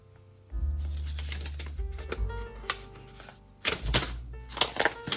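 A sheet of paper folded in half for a fraction lesson, with soft rustles and then sharper crisp creasing taps and crackles close by.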